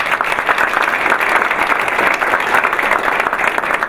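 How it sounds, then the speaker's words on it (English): An audience at an induction ceremony applauds the board in steady, dense clapping that fills the whole stretch at an even, fairly loud level. "So let's give our board another round of applause."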